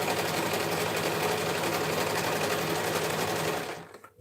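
A sewing machine runs steadily while stitching a homemade dress form cover, a close, continuous whirring hum for several seconds that stops abruptly near the end, with no voices.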